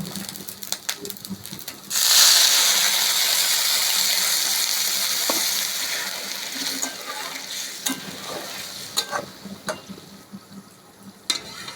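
Water poured into a pan of fried rice for a village khuder bou dish, a sudden loud hissing sizzle that slowly fades, followed by scattered stirring clicks and scrapes.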